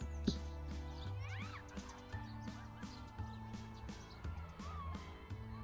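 A kitten stuck up a tree in a video game meows repeatedly in high, rising cries over a looping game soundtrack, with several calls spread across the stretch.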